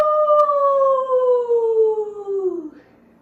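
A child imitates a wolf howl during an at-home kids' parkour class, one long sustained tonal howl that slides slowly downward in pitch for nearly three seconds, loud and close, before breaking off.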